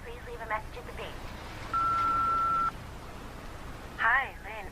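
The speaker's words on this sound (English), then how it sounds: "Please leave a message at the beep." A single steady answering machine beep sounds for about a second at moderate loudness, set between stretches of speech before and after it.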